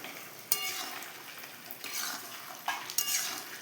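A spice mix is stirred in a pan for a vegetarian papaya and potato dish, giving a soft continuous scraping with a few sharper clicks of the utensil against the pan, close and moderately loud, with no talk.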